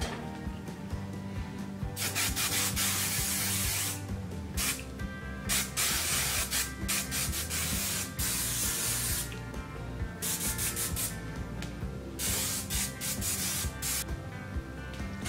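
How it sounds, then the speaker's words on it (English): Aussie hairspray sprayed onto hair in a quick series of hissing bursts with short pauses between them, close and fairly loud, with no talking. "So I'm gonna take some hairspray from Aussie and spray"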